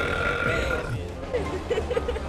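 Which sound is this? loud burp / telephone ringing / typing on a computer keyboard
loud burp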